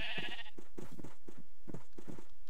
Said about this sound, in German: Oh, ein braunes Schaf sogar.